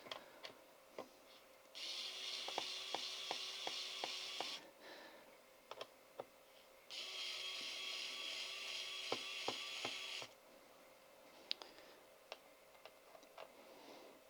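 A small electric motor in a HOTO precision electric screwdriver whirs in two bursts of a few seconds each, separated by a pause, with sharp mechanical clicks and ticks scattered around them.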